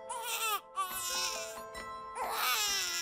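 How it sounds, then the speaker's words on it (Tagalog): A baby cries in wavering, high wails that rise and fall over several seconds, fairly close and loud, with short breaks between bursts. "narinig namin ang mahinang iyak ng sanggol"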